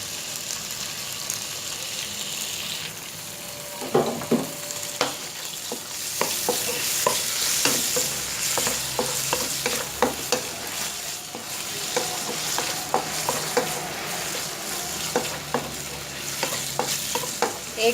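Chicken frying in about three tablespoons of oil in a pan over a medium flame, a steady close sizzle with repeated clinks and scrapes as the pieces are stirred.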